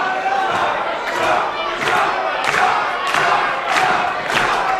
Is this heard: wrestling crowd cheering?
yes